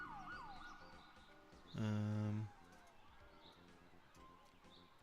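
A loud emergency siren from the city-building game Cities: Skylines sounds in a single burst of about a second, then faint background game ambience continues.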